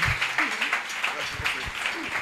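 A church congregation applauds and cheers during a prophetic deliverance service, with mixed voices calling out over the clapping.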